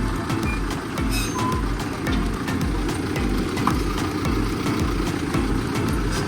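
A tractor engine rumbles steadily up close, its low drone continuous as it maneuvers out along a narrow farm path.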